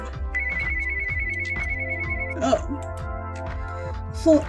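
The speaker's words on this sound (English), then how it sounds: "Ethel's thoughts were interrupted, however, by a ringing in the kitchen. It was the rarely used landline." A rarely used landline telephone rings in a kitchen in a video game, a steady electronic trill repeating over soft background music, with a couple of brief brighter chimes near the end.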